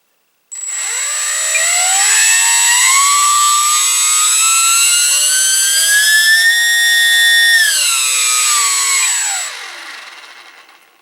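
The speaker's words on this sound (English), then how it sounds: "And now we are going to do a motor test." The electric motor and propeller of an E-flite UMX P-51 Mustang BL RC plane spin up to a loud, high whine. The pitch rises, holds steady for several seconds, then falls away as the motor winds down.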